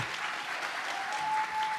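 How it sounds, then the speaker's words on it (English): Steady, dense applause from a pageant audience honoring the contestants on stage at a Miss World America final, a continuous wash of clapping held at even loudness throughout. "let's give a big round of applause for the other contestants on stage"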